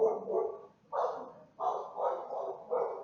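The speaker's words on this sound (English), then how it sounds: "Hopefully you can't hear my barking dogs." Several dogs bark in repeated bursts, loud and fairly close, with a few short gaps between volleys.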